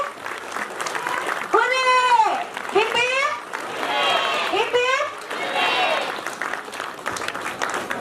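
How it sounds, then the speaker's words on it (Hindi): A crowd of students and staff applauds and cheers at a JEE Mains 2024 result celebration in an Indian school hall. Children's voices rise over the steady clapping through most of the span. "जोरदार तालियां इस बच्चे के लिए।"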